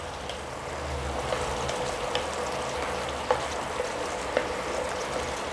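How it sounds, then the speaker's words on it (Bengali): A paste of nigella seeds, mustard, green chilli and garlic fries in oil, making a soft, continuous sizzle with faint occasional pops and light clinks, no voices. "একটু মশলাটা আগে ভেজে নিচ্ছি"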